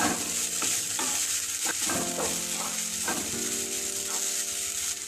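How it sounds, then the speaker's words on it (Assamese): Soybean momo filling sizzles and crackles lightly in a hot pan while a spoon or spatula scrapes and stirs it in irregular strokes. "অলপ ভাজিছোঁ, বেছি ভজা নাই।"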